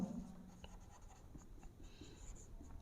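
Marker or chalk writing on a board during a commerce accounts lecture, a soft scratchy stroke texture running steadily and close under faint room noise.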